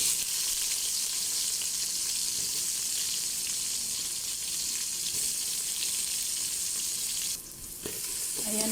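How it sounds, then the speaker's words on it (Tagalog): Chopped onion frying in a hot pan, a dense, steady sizzle that stays loud and close throughout, dipping briefly near the end before picking back up. "dito ko na ihuhulog yung sibuyas"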